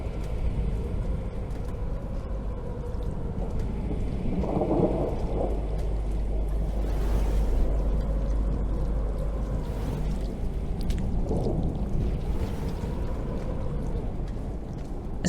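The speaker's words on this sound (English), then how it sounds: "Lightning and thunder in the distance, somewhere else the rain falls and brings chaos." Rolling thunder with steady falling rain in the Rain World video game, the rain a constant hiss while distant thunder rumbles swell twice, far off and moderately loud, with no talking.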